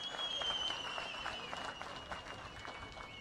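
Audience applause in a crowded hall during a political speech, dense steady clapping heard throughout, fairly distant with no voice over it.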